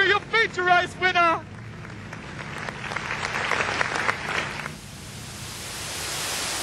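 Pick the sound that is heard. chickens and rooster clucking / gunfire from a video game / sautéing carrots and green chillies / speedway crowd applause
speedway crowd applause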